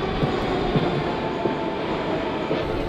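Metro train running through an underground tunnel, a steady loud rumble of wheels and carriage noise with faint rhythmic clatter throughout, no voices.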